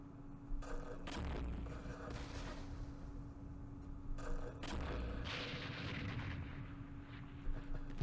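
Artillery fire in a Vietnam war strategy game, the Battle of Hue, with booming blasts and rumbling bursts over a steady background hum.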